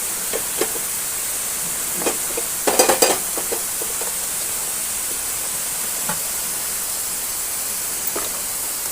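Egg fry stirred with chili powder and salt in a pan, a steady soft hiss of frying punctuated by scattered spatula scrapes and taps, with a brief cluster of clatters early on.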